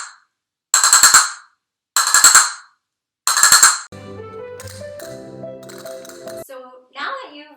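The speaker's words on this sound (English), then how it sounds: "This carretilla has a sound that is called Ria" Castanets play a ria, three sharp rattling bursts followed by a faster rolled carretilla, close and crisp, then a brief trailing sound at the end.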